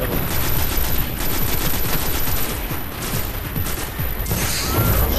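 Gunfire in the video game Destiny: dense, continuous, rapid shooting fills the whole stretch at a steady loud level with no pauses.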